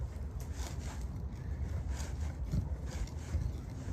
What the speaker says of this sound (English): you gotta use both the screwdrivers and try 2 different sides